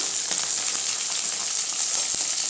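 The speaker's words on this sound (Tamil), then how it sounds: "ஒரு நல்லா வெங்காயம் கொஞ்சம் நல்லா வதங்கட்டுங்க" Shallots, garlic and curry leaves fry with mustard seeds in a pan, giving a steady, close, crackling sizzle with small pops throughout a short stretch and no talking.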